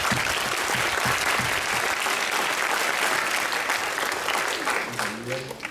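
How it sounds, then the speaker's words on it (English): Audience applause fills a school system media festival hall, a dense, loud wash of clapping that holds steady and begins to thin out near the end. "Give yourself a round of applause, please."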